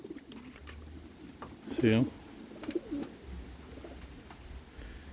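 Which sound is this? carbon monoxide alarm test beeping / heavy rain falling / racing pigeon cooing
racing pigeon cooing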